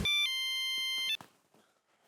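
An electronic phone ringtone trills in a bright sustained tone for about a second, then cuts off, leaving faint room noise.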